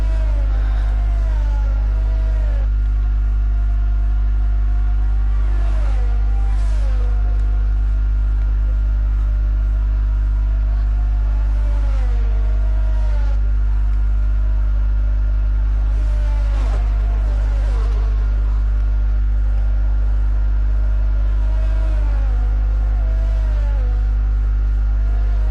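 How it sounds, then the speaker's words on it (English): Formula 1 cars in F1 22 roll through a formation lap at Miami on intermediate tyres, a continuous loud engine drone whose whining pitch rises and falls again and again over a steady low rumble. "As they start their formation lap"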